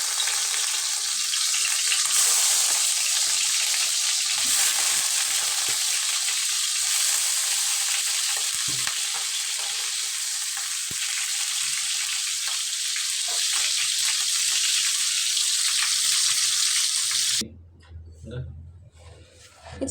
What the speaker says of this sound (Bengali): এখন এই কড়াইয়ের ভিতরে আমি অল্প একটু তেল দিয়ে দিছি। এখানে আমি টমেটোটা ভেজে নেব।